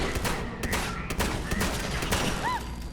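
Rapid gunfire crackles through a Fallout 76 firefight, dense overlapping shots and bursts filling the whole stretch with a few electronic whoops and zaps mixed in.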